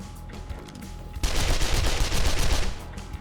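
Gunfire from a .44 in the game 7 Days to Die starts after a quieter stretch and becomes a dense run of rapid, loud shots and crackling impacts that lasts to the end.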